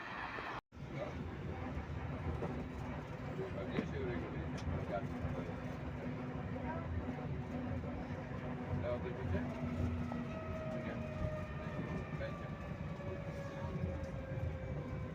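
Tram ride through Poznań on a cloudy Saturday: a steady, loud rumble of the tram running throughout, with long tonal whines from the motor or wheels rising and falling, and a brief break near the start.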